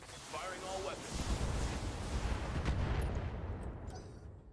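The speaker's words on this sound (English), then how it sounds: "Firing all weapons." A BattleTech mech fires all its weapons at once, a heavy rumbling barrage of blasts and booms lasting several seconds, loud and sustained, with someone talking over it.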